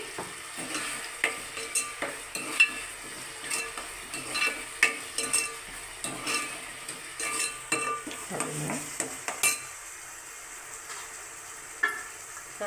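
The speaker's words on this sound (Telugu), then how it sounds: "టమాటాలోకి కొంచెం సాల్ట్ అనేది యాడ్ చేసుకొని టమాటా మగ్గినంత వరకు కూడా దాన్ని ఫ్రై చేసుకోవాలి" Tomatoes with salt fry in a pan and are stirred with a utensil, giving soft sizzling under repeated scraping and tapping strokes, quiet and close with no talking.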